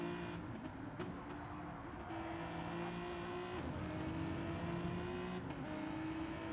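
A GT3 race car engine in a sim racing game at Spa, taking Rivage corner, drones steadily and loudly with pitch rising and dropping through gear changes; no voices.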